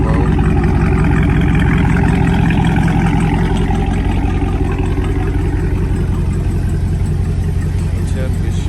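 A Dodge Charger Scat Pack engine rumbles loud and close, a deep steady throbbing idle with slight revving that fills the whole stretch without letup.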